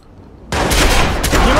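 Loud burst of gunfire in the video game Watch Dogs, erupting suddenly after a quiet moment into a dense, sustained volley of shots with no talk.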